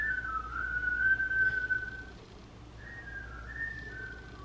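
A person whistles a sustained tune, with a long held phrase, a short pause, then more wavering notes at moderate volume over a low background hum.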